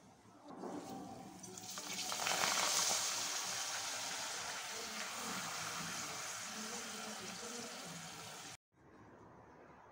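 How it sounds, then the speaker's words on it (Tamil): Pappadam frying in a pan of hot oil, a steady close sizzle and crackle that swells early then holds, cutting off abruptly near the end before a quieter hiss resumes. "பப்படத்தை பொரிச்சிடலாங்க."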